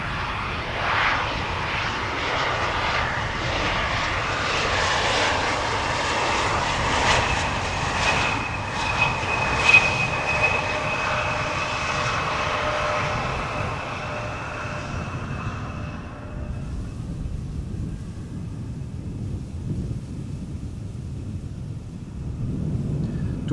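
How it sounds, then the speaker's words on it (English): KLM Embraer 190 airliner arriving from Dublin and landing at Amsterdam Schiphol Airport: a loud, steady jet engine roar with a whine, sustained for about fifteen seconds, then falling away to quieter distant rumble. "In the foreground, KLM flight 1136 arriving from Dublin, Ireland."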